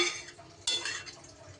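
A lid placed on a cooking pot of chicken curry with green jackfruit, a single close metallic clank followed by a short ringing scrape as it settles, quiet and alone with no talk.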